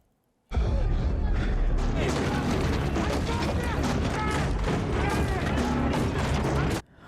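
Gunfire in a Stranger Things season 4 episode: a dense, loud, continuous stretch of shots and crashing impacts that starts abruptly and cuts off sharply, with no voices over it.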